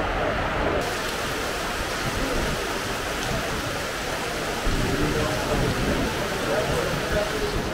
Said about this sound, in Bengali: জানলা খুলেই দেখলাম কেরালা জুড়ে অকাল বর্ষণ।